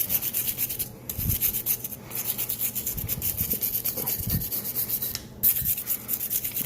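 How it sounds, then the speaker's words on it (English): A brush rubs lubricant into the metal of a rust-restored Desert Eagle pistol, giving steady close scratchy strokes with a few louder swipes, alone without talk. "Just kind of brush it into the metal."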